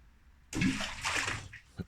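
A stone is dropped into a very deep old well at an abandoned mansion and lands in the water below, one short, muffled splash after a quiet wait, with a faint slosh trailing off.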